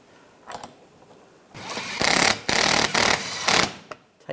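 A power driver runs in several short bursts while tightening the front lower grille screws on a 2013-2016 Dodge Dart, each whir lasting under a second with brief pauses between, a couple of faint clicks before.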